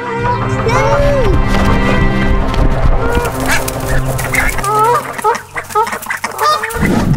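Geese honk repeatedly and loudly nearby while chasing a child, overlapping harsh calls against a busy, noisy background.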